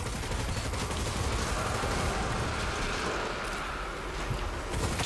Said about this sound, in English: So this is the normal firing rate. It's a very good SMG.